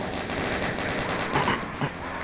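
Rapid automatic gunfire from enemies and allies shooting at the player in the shooter game Doom, a dense continuous rattle with a couple of louder bursts near the end.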